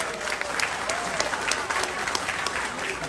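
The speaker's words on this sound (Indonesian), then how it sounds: "Tepuk tangan dulu dong untuk Pontianak" An audience at a political campaign event in Pontianak claps steadily, the dense applause holding a constant level from start to finish with faint crowd murmur beneath.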